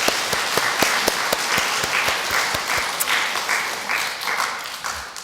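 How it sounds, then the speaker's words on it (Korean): A congregation applauding at an Easter Sunday Catholic Mass in a parish church, a burst of many hands clapping loud and close at first, then thinning and fading over several seconds. "고마워요. 박수 쳐줘가지고"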